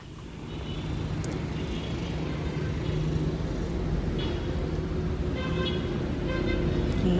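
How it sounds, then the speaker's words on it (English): Street traffic in Egypt rolls by as a steady roar of cars, with faint short car-horn toots cutting through now and then from a distance. "Lots of honking in Egypt."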